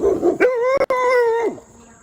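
A dog close by gives a loud drawn-out howling bark that rises and then falls away, preceded by a short yelp.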